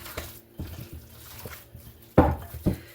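Hands squish and knead meatloaf ingredients together in a bowl, giving soft, wet, irregular squelches and slaps close up. One louder smack stands out near the end.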